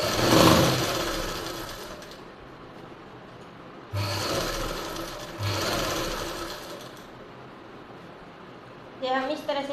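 A sewing machine stitches a baby frock dress in several rapid whirring runs separated by brief pauses, with someone talking over the work.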